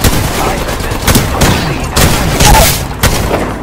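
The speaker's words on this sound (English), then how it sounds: "Opening fire on the enemy." Gunfire in the video game Apex Legends: dense, loud bursts of shots with booming impacts crowd the whole clip, firing in repeated volleys with almost no pause between them.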